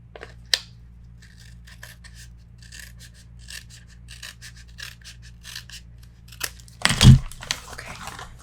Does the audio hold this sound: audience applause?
no